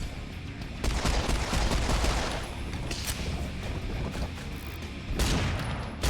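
Explosive barrel blown apart by gunfire in the video game Serious Sam, in a snowy castle level: a dense burst of loud, crackling shots and booms that runs almost continuously, with a fresh blast near the end.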